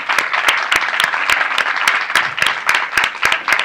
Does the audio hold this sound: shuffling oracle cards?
no